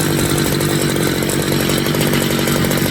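A gas string trimmer engine runs loud and close at a steady high rev, a raspy buzzing drone without pause.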